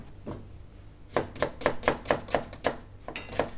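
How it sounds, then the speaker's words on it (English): Brown onions chopped on a cutting board by a function centre cook, a quick run of about ten evenly spaced knife thuds after a quiet start, close and crisp with no talking. "I'm just going to chop up some brown onions"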